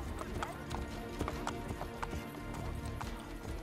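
Rapid clip-clop of a horse galloping in Assassin's Creed Brotherhood on Xbox, steady hoofbeats over a dense game soundscape with a faint whinny, fairly loud and continuous.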